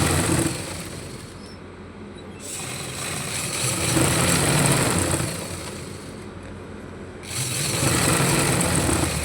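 A sewing machine stitches a farshi salwar with a steady mechanical whir that swells and eases in long runs, fairly loud and close.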